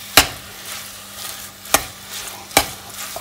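Ingredients for a lasagna sauce sauté in a pan with a low background sizzle, punctuated by three sharp scraping stirs of a utensil, close and distinct, with no voices.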